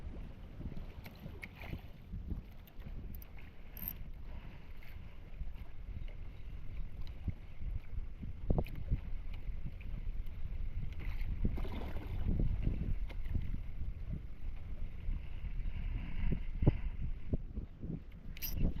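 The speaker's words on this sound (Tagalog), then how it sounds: "Lakas na ng hangin." Steady, heavy wind buffeting the microphone outdoors on open water while fishing, a constant low rumble with gusts swelling louder throughout.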